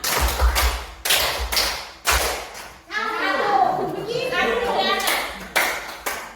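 Children clap together in a group five-clap pattern, bursts of claps broken by a stretch of children talking and calling out.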